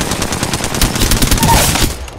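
Enemy gunfire in the video game Apex Legends: a loud, close, rapid automatic burst of shots rattling continuously for about two seconds.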